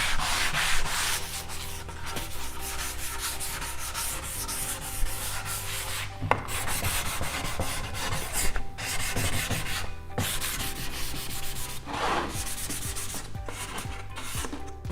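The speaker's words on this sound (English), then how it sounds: "I went over the whole piece with a fine grit sanding block, and it really smoothed out the surface" A fine grit sanding block rubs steadily back and forth over a wooden potato bin, a close, continuous scratchy rasp with brief pauses between passes.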